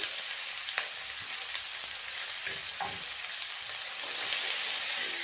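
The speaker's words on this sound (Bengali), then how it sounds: "পেঁয়াজটা নেড়ে চেড়ে ভালো করে ভেজে নেব।" Chopped onion sizzles steadily in hot oil in a pan over whole spices, a dry leaf, and a red chilli, with occasional light scrapes of stirring. The frying hiss stays constant and close throughout with no voice.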